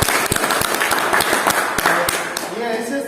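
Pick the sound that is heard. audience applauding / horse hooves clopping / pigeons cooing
audience applauding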